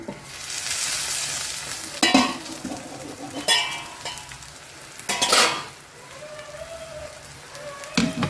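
Bitter gourd fry being stirred in a pan, a steady sizzle broken by several louder scraping, clattering strokes of the spoon at irregular intervals, close and alone without voices.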